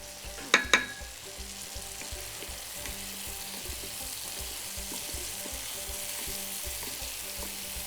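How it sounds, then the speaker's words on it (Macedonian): Chopped leek and mushrooms frying in a pan for a liver dish, giving a steady close sizzle throughout, with a couple of sharp clinks near the start and light stirring scrapes. "Тој брзо мекнува, пошто е полн со вода, нели брзо се пржи тој."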